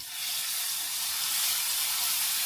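Mustard seeds, curry leaves and a spice paste of mustard, poppy seed and green chili hitting hot oil in a pan for stuffed bitter gourd: a steady, loud, bright hiss and sizzle that swells and holds throughout.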